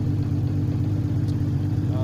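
Honda CBX motorcycle engine idling steadily at about 1000 rpm during an alternator charging test, a close, even low rumble that holds constant throughout with no revving.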